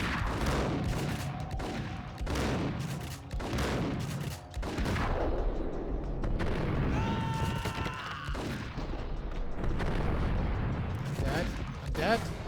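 Pump-action shotgun fire and other gunfire in the video game Max Payne, a dense run of loud booming blasts with game effects under near-continuous talk.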